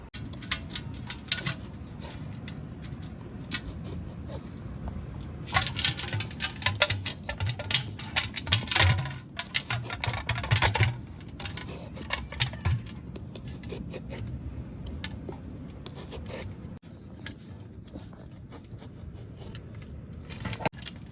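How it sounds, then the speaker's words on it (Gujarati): Rasping, scraping strokes sound as the skin is peeled off a bottle gourd by hand. The strokes come in irregular bursts, close up and moderately loud, with no talking. "આખા તુમડાની સાઈલ પાડી નાખવાની છે"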